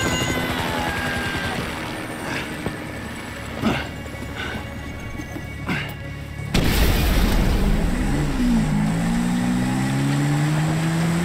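In the game GTA 5, a low rotor-like drone builds under a few dull thuds, then swells suddenly louder with a rising, wavering whine as a helicopter closes in amid game effects.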